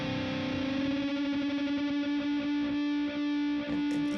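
Guitar harmonics ring through distortion and chorus effects as a sustained, heavily processed tone in an alternative metalcore setting. Two close pitches beat against each other in a slow wavering pulse before settling almost into one note, loud and with no voices.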